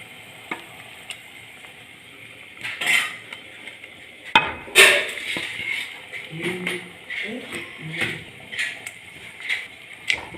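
Pieces of avoli (pomfret) fish go into a boiling Kerala-style coconut fish curry, giving soft sizzling and bubbling with a few sharp clinks of a utensil against the pan, moderately close and intermittent.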